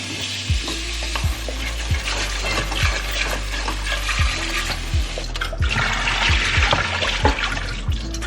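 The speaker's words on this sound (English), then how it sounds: "all I do is that I wash the veggies" Tap water runs steadily while vegetables and produce such as broccolini and radishes are washed at a kitchen sink, a continuous close splashing hiss broken by soft periodic thumps and clatter.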